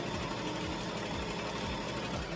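A sewing machine stitches ribbon for a tutu, a fast, steady mechanical whir with rapid rhythmic needle clatter, close and continuous.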